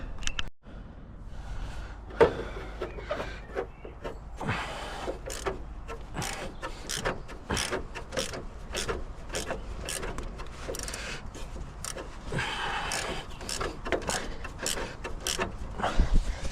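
Ratchet wrench working bolts on a winch bumper for a cheap 4x4 build, heard as a run of sharp, evenly repeated clicks through most of the stretch, close by, with a few knocks and handling noises and no talk.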